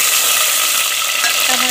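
Sliced medium tomatoes fry in a pan with salt and spices, a steady loud hiss and sizzle that fills the whole moment with no pauses.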